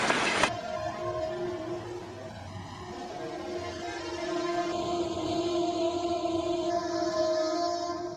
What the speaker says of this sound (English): I think few have seen such a smoky train in Rio.